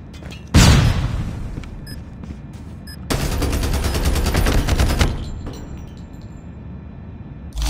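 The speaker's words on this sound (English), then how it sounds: "Flashbang!" A flashbang grenade goes off with a sharp loud bang in a multiplayer shooter game, followed by a sustained burst of rapid gunfire lasting about two seconds, then quieter rattles.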